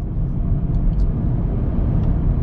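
Inside a new Nissan Note e-POWER (E13) accelerating in sport mode, a loud, steady low rumble of road and drivetrain noise fills the cabin with no talking.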